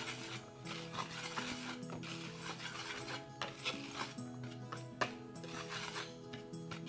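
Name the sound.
whisking dry ingredients and salt together in a bowl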